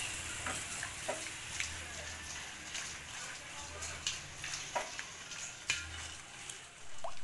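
Sugar is stirred in a bowl to dissolve it while preparing binangkal bread, a soft scraping swirl with light clinks of a utensil against the bowl, repeating in gentle strokes under quiet background sound.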